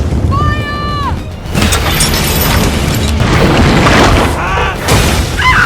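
Burning gasoline barrels explode: a heavy booming blast erupts into sustained crashing roar and debris, with high whining tones at the start and voices shouting over the chaos.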